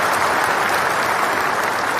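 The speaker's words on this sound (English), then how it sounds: "That deserves a lot of applause" Dense, continuous studio applause on a hip hop radio talk show, loud and close, a steady wash of clapping with no talk over it.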